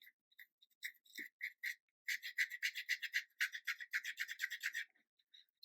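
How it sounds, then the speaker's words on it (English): A brush scrubs watercolor paper along the edge of a frisket mask to soften a painted flower's edges, giving close, dry rasping strokes, a few spaced ones first and then a quick steady run of short rubs. "you just scrub at the edge of the frisket and get those edges softened"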